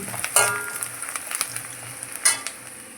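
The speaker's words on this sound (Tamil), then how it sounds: "பாருங்க, நல்லா வெங்காயம் வதங்கிடுச்சு." Onions sauté in a pan under a soft, continuous sizzle, with two louder spatula scrapes and scattered light taps of stirring against the metal.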